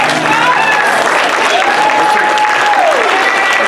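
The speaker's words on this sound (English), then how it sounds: "Clap your hands for the Lord." A church congregation clapping their hands in praise during a sermon, loud and close, steady massed clapping with whoops and a rising sung or shouted voice over it.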